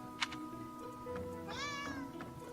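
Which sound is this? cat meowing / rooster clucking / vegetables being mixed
cat meowing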